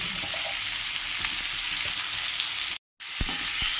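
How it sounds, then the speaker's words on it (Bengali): Vegetables and potato with onion, bitter gourd and taro stir-fried in hot oil for a shrimp and greens dish, a steady close sizzle broken by a short silent gap and a few spatula scrapes. "ও ভালো করে তেলে নাড়াচাড়া করতে থাকলো"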